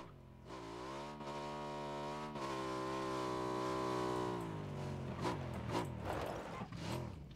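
Motorbike engine in a Miramar video game match, droning steadily with a sustained rising tone that holds, then drops and wavers as the rider slows, fairly constant and moderately loud throughout.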